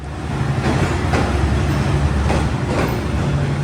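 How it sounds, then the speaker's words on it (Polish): Steady low rumble of a train rolling into a station in Vietnam, with faint rhythmic clunks from the wheels and a broad hiss of motion. "Pociąg podjechał."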